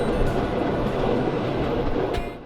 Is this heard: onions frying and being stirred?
no